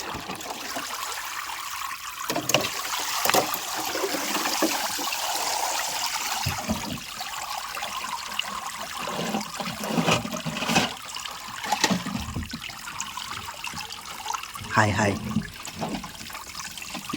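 River or stream water rushes and trickles continuously nearby during crab catching, with occasional splashes and knocks; a voice speaks briefly over it.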